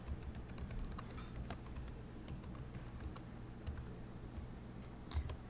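Someone types an assignment title on a computer keyboard, a faint run of quick, irregular key clicks that continues throughout without any talking.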